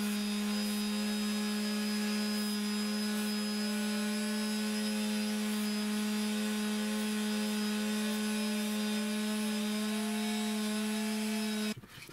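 A power tool sands small 5 mm plywood parts: a constant motor hum with a wavering higher whine as the pieces are worked, steady until it stops abruptly at the end.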